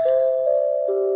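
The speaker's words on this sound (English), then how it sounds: "Ooh, listen to that doorbell." A clear electronic chime rings out in stepped tones, each note sustaining into the next, loud and close with nothing else around it.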